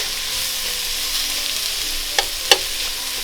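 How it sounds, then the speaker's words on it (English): Celery, onions and apples sauté together in a pan with a steady, close sizzle, broken by a couple of brief clinks of a utensil near the end. "I'm going to saute it all together until it is tender."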